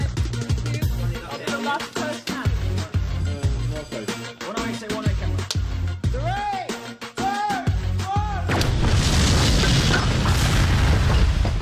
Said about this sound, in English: None of us were allowed in the studio because it was such a huge, big, great explosion.